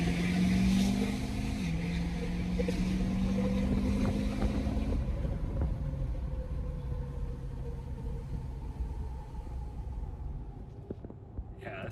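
A tuned 2017–2019 Super Duty truck's heavy engine rumbles and revs loudly, with deep pulsing tones that shift in pitch, then settles into a lower, quieter idle.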